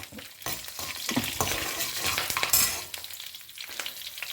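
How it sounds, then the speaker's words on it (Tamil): Mustard seeds splutter in hot oil as green chillies and curry leaves go into the pan, giving a steady close sizzle with scattered sharp pops and crackles and a few stirring scrapes, no talking. "கடுகு பொரிய ஆரம்பிக்கிற நேரத்தில் சும்மா 2 வாசனைக்கு பச்சை மிளகாயும் கொஞ்சம் கருவேப்பிலை"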